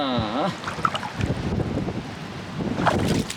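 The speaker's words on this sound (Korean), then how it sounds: "바람이 확실히 많이 부니까 몸이 제대로 가눌 수가 없네요" Strong wind blows at a seaside beach in Jeju, roaring steadily into the microphone with heavy gusting buffets throughout, loud and close, with no talk.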